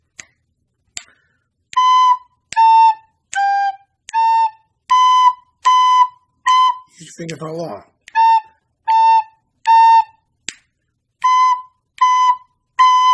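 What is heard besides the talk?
recorder playing Mary Had a Little Lamb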